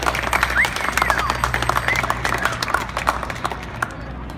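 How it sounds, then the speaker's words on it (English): Crowd applause at a Disability Pride Parade rally in Philadelphia, a dense steady patter of many hands clapping at moderate distance with a few scattered cheers, continuing for the whole stretch. "Big round of applause."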